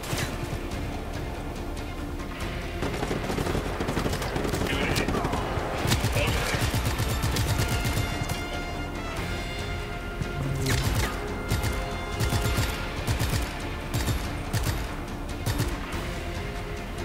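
Heavy gunfire aimed at the player at a large naval base in Just Cause 3, with dense bursts of shots, crashes and impacts layered over game noise, loud and continuous throughout.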